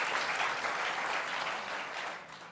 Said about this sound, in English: Please, can you help me just a round of applause for the panel members